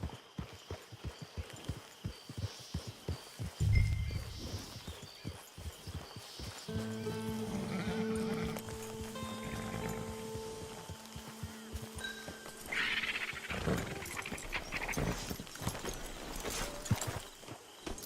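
Hooves of a horse in Red Dead Redemption 2 clip-clop at a steady walking rhythm, fairly close. Sustained musical tones from the game swell in through the middle, and there is a brief louder bump early on.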